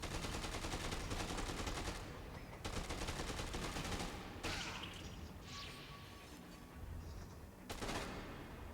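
Rifle fire in the video game Dead Rising 2, a rapid stream of sharp shots for the first two seconds, then scattered single bursts and cracks at moderate loudness with game noise between, no talking.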